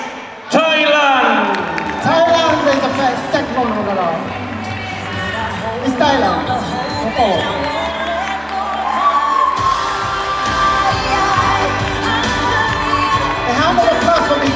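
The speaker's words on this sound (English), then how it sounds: "A hand of applause for Miss Thailand." A pageant audience at the Miss Trans Star International 2019 final cheers, whoops and applauds for Miss Thailand as third finalist: a loud, sustained wall of crowd noise with excited shouts rising and falling, mixed with voices throughout.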